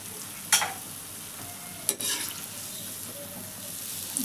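Dates frying in a hot pan for a Ramadan iftar special. The sizzle is quiet and steady, with a few sharp crackles and stirring knocks and no talking.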